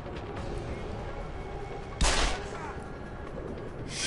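A single sharp sniper shot cracks out in the middle of a Deus Ex: Human Revolution firefight, standing out above a steady hiss of game ambience.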